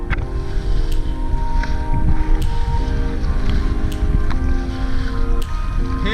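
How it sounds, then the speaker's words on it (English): Steady wind roars across a microphone at sea as a solo kayak pushes into a headwind through grunty swell, a constant rushing noise with faint water sloshing and no talking. "Headwind"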